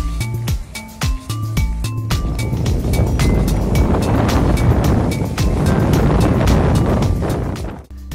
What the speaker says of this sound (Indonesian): angin bertiup sangat kencang